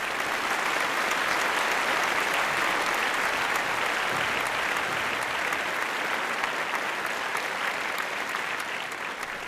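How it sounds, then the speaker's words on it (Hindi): Steady, full applause from a large audience welcoming a poet at a mushaira and kavi sammelan in Lucknow, dense continuous clapping that stays loud and even for the whole stretch, with no talking. "ज़ोरदार तालियों से इस्तकबाल कीजिए"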